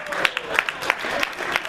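Scattered clapping from a convention panel audience, sparse individual claps with some crowd murmur and a voice in the background.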